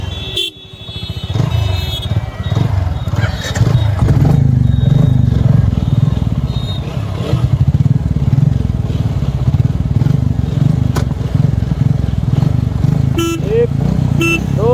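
Royal Enfield Bullet and TVS Apache RTR 160 4V motorcycles race along a highway, engines droning steadily and loudly throughout, with brief horn toots near the end.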